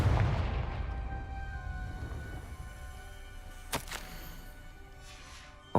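A Confringo spell explosion goes off in Hogwarts Legacy, a deep booming burst at the start that rumbles and fades, followed later by a couple of sharp cracks over a low game ambience.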